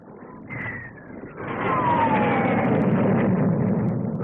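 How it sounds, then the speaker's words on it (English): A Gloster Javelin all-weather fighter with twin Armstrong Siddeley Sapphire turbojets passes at the 1957 SBAC Farnborough flying display: a steady roar swells and stays loud, while high whining tones slide downward as the jet goes by. "The Gloucester Javelin all-weather fighter, powered by two Armstrong Siddeley Sapphire turbojet engines."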